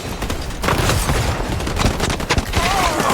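Gunfire in the video game HighGuard, with rapid overlapping shots and booms forming a loud, dense burst throughout, alongside other game sounds.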